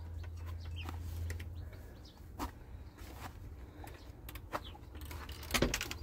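Chickens cluck softly around a hen brooding her chicks in a coop, with scattered short clucks and peeps, a low hum underneath and occasional rustling and clinks nearby.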